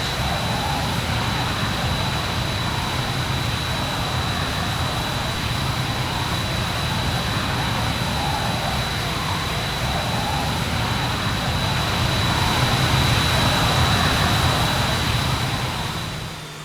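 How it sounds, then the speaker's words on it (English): A jet aircraft in the video game ArmA 3 roars steadily and loudly throughout, a continuous engine drone with a thin high whine, swelling slightly near the end with no talk. "And that, my friends, is a little bit more in depth of flying the jet and using it to target things and drop bombs on them."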